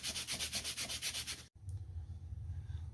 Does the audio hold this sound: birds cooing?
no